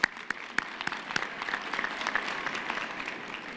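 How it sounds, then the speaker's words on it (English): Audience applause at a university graduation ceremony: a crowd claps in dense, overlapping patter, starting with a few sharp claps and settling into sustained steady clapping filling the hall. "we can give her applause in her absence"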